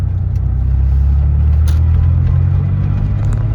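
A 1986 Porsche 911 Carrera Targa engine drones loud and steady from inside the car as the driver shifts down to second gear, with no talk.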